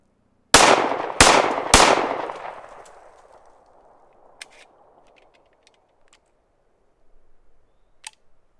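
Three sharp, loud .45 ACP pistol shots from a 5-inch 1911, spaced about half a second apart, each ringing out with a long echoing decay, then a few faint clicks and handling noises.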